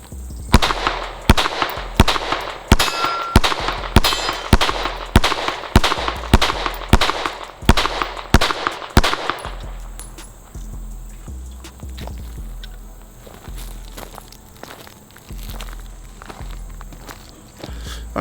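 A handgun drawn from a belt holster fires a full magazine in a quick, evenly spaced string of about a dozen loud, sharp shots, followed by quieter scattered knocks and handling sounds.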